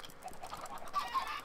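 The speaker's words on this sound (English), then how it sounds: "time to kill a bunch of chickens" Chickens in the Minecraft video game make short honking, clucking fowl calls, loud and close, with nobody talking.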